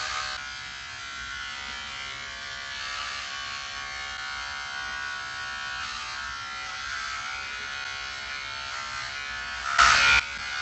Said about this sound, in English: You gotta do it with the razor.